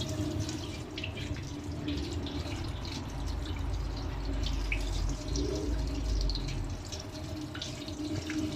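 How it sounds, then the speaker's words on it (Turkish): Running tap water pours steadily over a freshly cleaned, previously burnt kettle being rinsed in a sink, a continuous close splashing rush that lasts throughout without any speech. "Şimdi bunu güzelce durulayacağız arkadaşlar"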